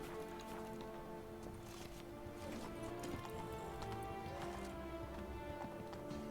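A horse gallops in The Witcher 3, its quiet rhythmic hoofbeats carrying over a soft ambient music bed, faint and steady throughout.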